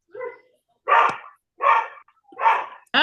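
A dog barks four times in quick succession, close and loud, with short silent gaps between the barks and no voices.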